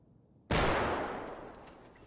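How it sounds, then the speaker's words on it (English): Single grenade explosion in Escape from Tarkov, a sudden loud close blast after near silence, its broad roar decaying gradually over about a second and a half. "I'm gonna test out grenades."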